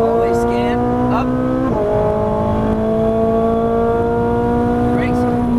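A Ferrari 458 engine wails close and loud as the car accelerates on a track, its pitch climbing, dipping at a gear change and rising again, with a faint tire squeal. A person speaks intermittently over the engine.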